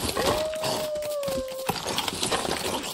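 Wolves in the LEGO Fortnite video game give a single sustained, rising howl of about a second and a half over busy game background noise, followed by scattered thumps and rustles.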